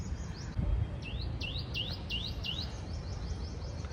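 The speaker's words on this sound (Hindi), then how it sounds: "मैं पार्क में आई हूँ और चिड़ियों की आवाज़ आ रही है।" Birds chirp in a park in a repeated series of quick, high, rising tweets over a steady low outdoor rumble, fairly close and clear.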